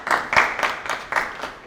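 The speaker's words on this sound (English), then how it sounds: "Why are you clapping now?" Short, uneven clapping from a small audience after a debate-style speech on gender equality, a handful of distinct claps coming in loose bursts, close and fairly loud.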